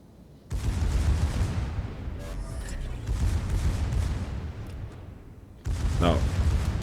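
Deep booming gunfire from a battleship's main battery in World of Warships, heavy blasts rolling into a long sustained rumble, loud and close, with a fresh boom near the end and brief talk partly over it.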